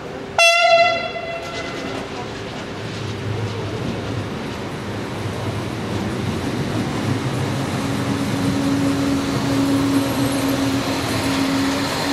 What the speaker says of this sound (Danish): ankom det sidste DSB-tog fra Svendborg til Odense med passagerer